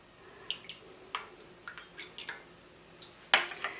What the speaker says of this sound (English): Just take some broth here and keep folding it in.